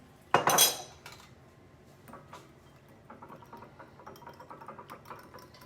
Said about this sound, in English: we are gonna kind of whisk that together